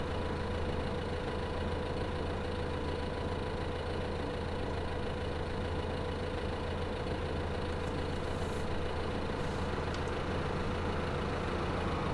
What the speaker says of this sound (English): Here comes a bigger tractor and trailer.